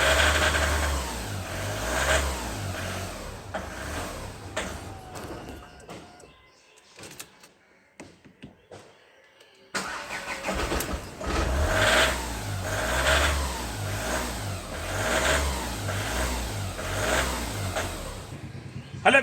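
Three-cylinder diesel engine of a VW Polo TDI with starting, power drop and smoke problems, running loud and close with repeated revs, falling quiet for a few seconds, then catching again and revving steadily.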